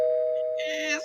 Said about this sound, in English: Let me go ahead and give her that doorbell, baby.